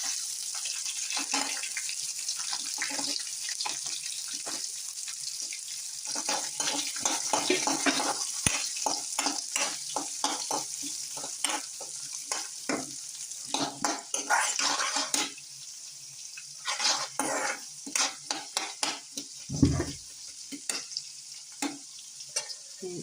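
Chopped shallots fry with browning grated coconut for a prawn curry, a continuous soft sizzle broken by frequent irregular scrapes and knocks of a spoon stirring against the pan.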